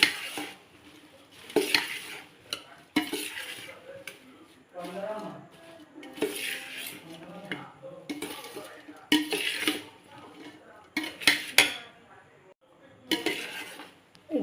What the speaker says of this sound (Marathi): पुन्हा एकदा ढवळून घेऊचा